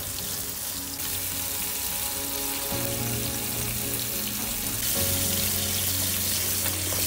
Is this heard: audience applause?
no